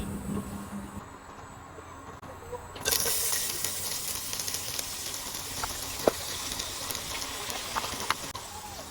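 Food sizzles while being cooked outdoors on a home rooftop, giving a broad, steady hiss that jumps louder a few seconds in and then continues with small crackles.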